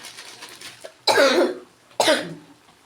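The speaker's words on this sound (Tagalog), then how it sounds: "Pasensya na kayo na ubo ako" Two sharp, harsh coughs close to the microphone, spaced about a second apart, following a quieter stretch.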